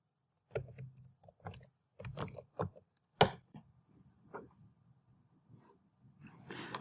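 Short bursts of clicking on a computer keyboard as a command is typed, clustered keystrokes close by in a quiet room with pauses between runs.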